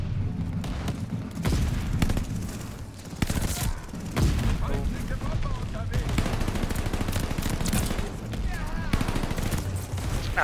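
DP27 machine gun fire in Call of Duty: Vanguard comes as continuous rapid bursts with booming impacts and explosions in a loud, dense game battle soundscape.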